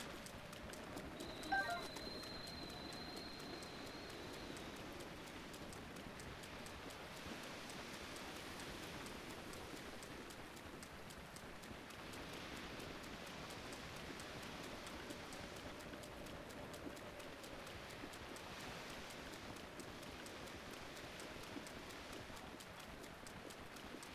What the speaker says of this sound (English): Rainy down here on the coast.